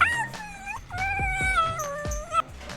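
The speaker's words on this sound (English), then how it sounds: "Whine and cry whenever they don't get their way." Close, high-pitched whining and whimpering from an Alaskan Klee Kai: a few drawn-out wavering cries that slide up and down, broken by short yelps, with no talking.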